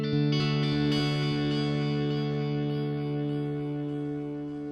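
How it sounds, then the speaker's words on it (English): A sustained guitar chord rings out through an OTO Bim delay pedal with distortion in its feedback loop, the repeats gritty and distorted, smearing into a dense, slowly fading wash. "you should be able to hear straight away there's distortion in the feedback loop"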